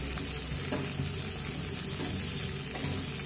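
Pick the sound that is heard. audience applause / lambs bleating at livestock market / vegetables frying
vegetables frying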